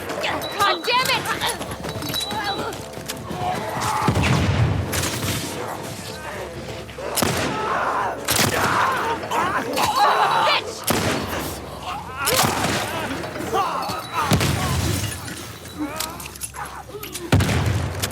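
Gunshots in the shooter No Return, sharp single reports scattered every second or two amid a busy game mix, with a person talking over much of it.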